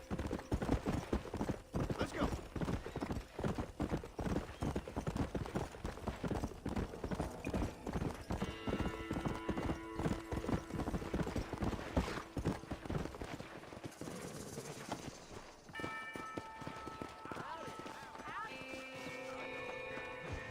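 Horse hooves clip-clop steadily in a horse-riding video game, a close, continuous trotting rhythm running under game music and sound effects, with occasional voices.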